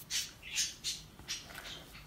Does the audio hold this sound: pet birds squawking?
yes